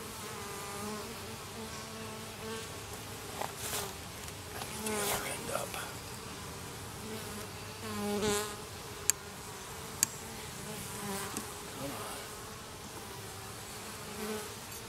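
Steady, dense buzzing of many honey bees close by around a hive frame, a continuous insect drone with a few sharp clicks and small swells.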